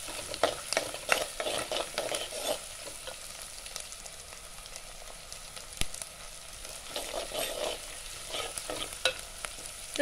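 Onion sautéing until soft with green chilli in a pan crackles quietly, with intermittent bursts of stirring and scraping across a low, continuous fry.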